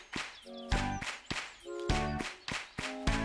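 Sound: hand clapping pattern in a counting song

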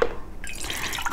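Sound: water poured into a tomato can to rinse it

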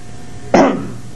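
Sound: cough

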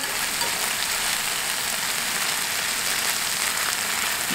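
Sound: sauerkraut being stirred and fried in a pan

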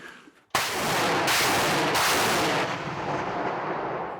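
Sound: artillery gun firing

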